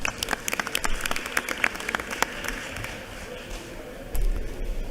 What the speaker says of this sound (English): you guys just give them a round of applause, please, in their absence